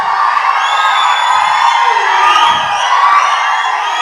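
Fans at a film function send up loud, sustained cheering and whooping, a dense crowd roar with high shouts and whistles layered on top and no clear breaks.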